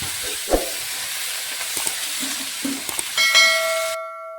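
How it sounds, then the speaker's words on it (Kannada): Green chillies and tomatoes frying in a pan, a soft continuous hiss broken by a few quick pops and clinks, then a brief high ringing tone before the sound cuts off abruptly. "ಹಸಿ ಮೆಣಸಿನ್ಕಾಯಿ ಟೊಮೊಟೊ ಕೂಡ ಒಂದು ಸ್ವಲ್ಪ ತನ ಹುರ್ಕೊತೀನಿ"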